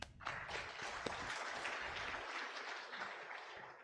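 Applause from a school reunion audience of the 1975 batch fills the room, a steady wash of many hands clapping at moderate level, slightly uneven and tapering off toward the end.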